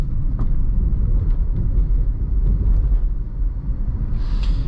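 A 2012 Jeep Liberty with a 4-speed automatic cruising along, heard from inside the cabin as a steady low engine and road rumble with faint rattles and a brief higher whine near the end.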